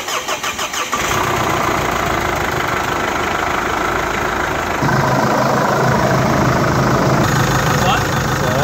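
A Jeep Liberty CRD diesel engine cranks briefly, catches and settles into a loud, steady idle, its rumble shifting slightly partway through, close by with no talk over it.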